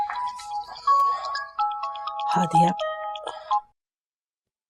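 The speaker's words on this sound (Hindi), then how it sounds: "किसका फोन आ रहा है बार बार?" A phone ringtone plays a short electronic melody of bright tones, with a voice speaking briefly in the middle before it stops.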